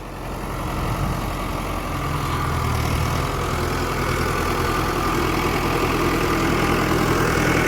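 A tractor engine runs steadily at idle, a loud low rumble that holds throughout with no voices.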